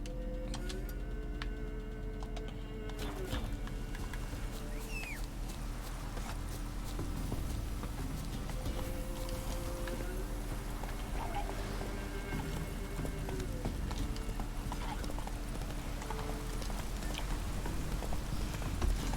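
Horse hooves clip-clopping steadily during a ride in The Witcher 3 video game, a close, even rhythm of soft knocks under a background of light rain-like patter.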